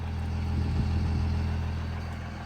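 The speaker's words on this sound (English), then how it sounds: "That stock exhaust." A 1999 RAM 2500 with a Cummins diesel engine and stock exhaust runs at a steady low idle, a close, continuous rumble with no talking over it.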